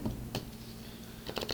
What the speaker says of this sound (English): I'm almost done shuffling.